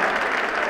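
Brief burst of crowd applause for a basketball team at a tournament awards ceremony, a dense, loud clatter of many hands lasting under a second.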